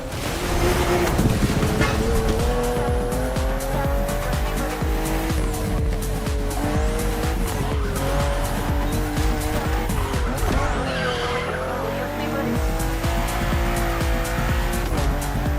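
A BMW M4 CSL racing in The Crew Motorfest, its engine roaring loud and continuous, pitch climbing and dropping through gear changes, with tire squeal and skidding throughout and no voices.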